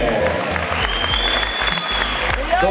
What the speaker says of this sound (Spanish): fuerte el aplauso para Marco González y Eduardo